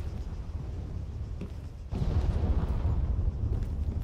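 Loud explosions in a Battle Royale video game: a dense low rumbling roar that swells sharply partway through and stays heavy and continuous, with no talk over it.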